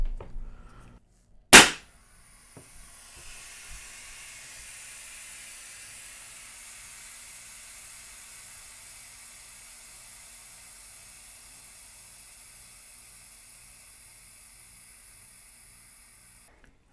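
An FX Leopard air rifle with an empty tank is dry fired to drain its plenum, giving one sharp crack followed by a long, steady hiss of escaping air that slowly fades, close up with no voices.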